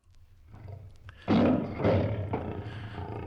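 A lion roar sound effect: a deep, rough roar bursting in after a quiet rumbling lead-in, loud and close, with a second swell before trailing off.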